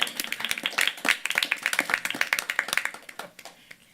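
An audience at a Mount Olive board of education meeting claps for student council liaisons, a steady run of individual hand claps from a modest crowd that thins out and fades toward the end.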